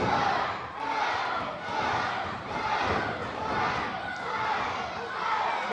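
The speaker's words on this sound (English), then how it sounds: "Sampson trying to get this Saint John crowd behind Spike" Wrestling arena crowd in Saint John roaring and chanting during a tag-team match, a dense, sustained wall of cheering that swells in waves throughout.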